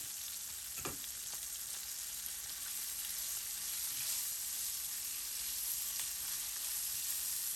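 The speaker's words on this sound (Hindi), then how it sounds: "मिर्चें हमारी अच्छी तरह फ्राई हो चुकी हैं।" Green chilies fry in hot oil in a pan for a yoghurt chili curry. The sizzle is steady and crackling, with a brief stirring knock near the start and no voices.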